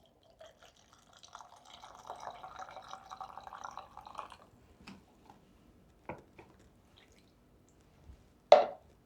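Vegetable oil and apple vinegar are poured into a bowl for a tomato appetizer sauce, heard as a soft, quiet liquid trickle for a few seconds, followed by a few faint clinks and taps.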